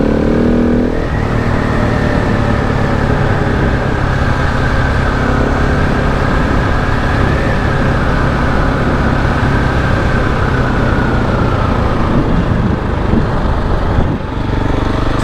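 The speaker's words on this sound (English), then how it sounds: "Roasting my back tire." KTM 690 dual sport motorcycle spinning its back tire on a forest road, a loud continuous high-revving engine roar held for about twelve seconds before easing off.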